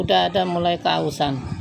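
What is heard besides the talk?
No everyday noises stand out.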